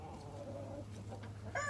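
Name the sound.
chicken clucking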